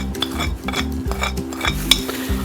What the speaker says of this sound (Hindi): हमने अब इसमें नमक मिक्स कर देते हैं जी